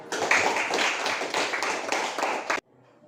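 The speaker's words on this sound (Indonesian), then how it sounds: "Tepuk tangan" An audience claps hands together in a run of close, loud, somewhat uneven claps lasting a couple of seconds, then stopping abruptly into near silence.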